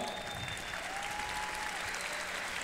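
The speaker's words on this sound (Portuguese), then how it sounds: "Salve de palmas pro Popó!" Conference talk show audience applauding a guest: a dense, even wash of clapping from a large crowd, filling the whole moment without talk over it.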